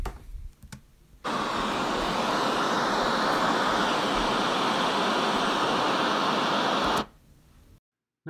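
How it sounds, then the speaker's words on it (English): A dense, even hiss of white noise switches on abruptly, holds loud and steady for about six seconds, then cuts off. "Here's a clip of white noise that I searched up on YouTube."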